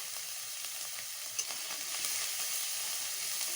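Onion and garlic paste fry in oil with a soft, steady sizzle and crackle, fairly quiet and close, with a faint stir-like tap partway through.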